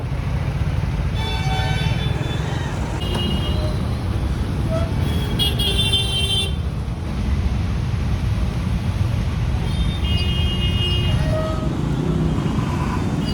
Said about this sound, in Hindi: देखो भाई चौराहे के पास ना बड़ी ट्रैफिक लग जाती है।